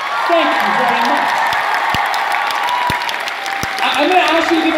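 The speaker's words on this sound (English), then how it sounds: "Can you please join me in giving them a round of applause?" Large audience at a big youth event breaking into sustained applause, a dense, loud roar of clapping and some cheering that holds steady for several seconds, with a few sharp individual claps standing out.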